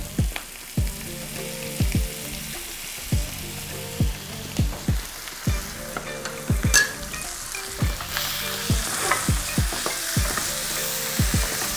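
Butter and tomato purée frying in a pan, a constant close sizzle broken by regular scraping strokes of a spatula, roughly two per second, with no talking.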